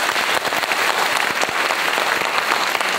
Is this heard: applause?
yes